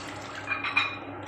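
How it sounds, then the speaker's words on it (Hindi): Water is poured into masala for an aloo anda curry, a short, near splash and trickle of liquid rising briefly in the middle before fading. "अब हम इसके अंदर थोड़ा सा पानी डालेंगे"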